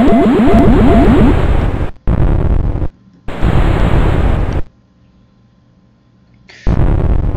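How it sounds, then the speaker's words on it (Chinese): Explosions of bases in a Windows 3.1 video game, loud harsh bursts of noise in several long blocks separated by near silence, the first with a warbling tone. "基地要炸喽！"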